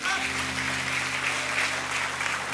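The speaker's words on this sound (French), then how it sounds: "est-ce qu'on peut l'applaudir bien fort" Applause from a church congregation, a steady wash of clapping at moderate volume with a constant low hum underneath and some voices mixed in.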